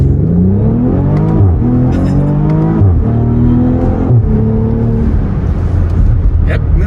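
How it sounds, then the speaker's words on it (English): A BMW X3 M40i engine revs repeatedly while held on the brake for a launch, loud and close, with rising pitch sweeps that drop and climb again several times in a steady, throaty roar. "So I'm just holding my foot on the brake and giving it some gas."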